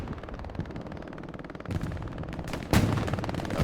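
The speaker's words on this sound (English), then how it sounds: "Doing nothing but laying covering fire." Machine-gun covering fire from a distant position in a 35-versus-35 Hell Let Loose match rattles in rapid sustained bursts with other gunfire, building louder toward the end, dense and continuous.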